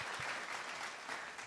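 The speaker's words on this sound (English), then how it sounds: "Where's a round of applause?" Brief, faint applause on a live podcast, a soft wash of clapping with no one talking over it.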